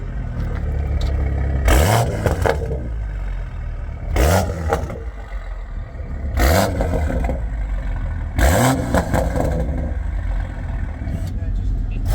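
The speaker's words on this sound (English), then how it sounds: "So owner's gonna go and rev it for us." A car's engine is revved by its owner at an open car meet in South Jersey, several sharp rising blips spaced a few seconds apart over idle, with people talking nearby.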